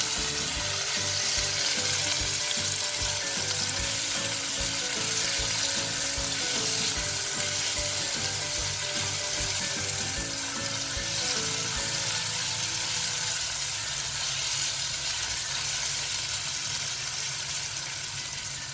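Sliced onions fry in a pot for beef curry with pumpkin, a steady bright sizzle with rhythmic stirring scrapes that fade toward the end, leaving the sizzle alone.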